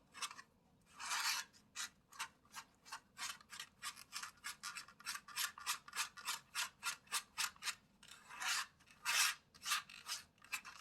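Liquid lip pigment mixture being stirred in a small container, a close, quiet series of rhythmic scraping strokes repeating steadily, some faster and louder toward the end.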